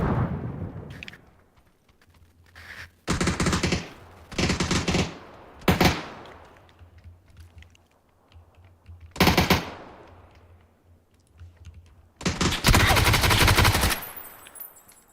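Gunfire in a video game comes in loud, close bursts of rapid automatic fire, split by short quiet gaps, with a long sustained volley near the end.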